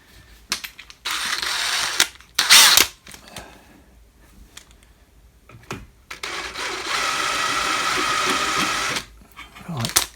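A countersink bit chamfers a freshly drilled 6.8 mm M8 tapping hole during a plasma CNC table build: a whirring, buzzy drill run in short bursts, then one steadier spell of several seconds, with no talk.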